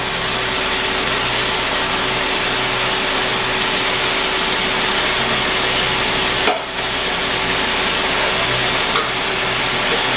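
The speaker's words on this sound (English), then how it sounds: "Now the sauce has come to a nice boil. I'm gonna add the meatballs in." Meatballs going into a pot of boiling sauce for an Italian, Indian or Chinese meatball dish, a steady bubbling and sizzling hiss throughout with a brief clunk midway.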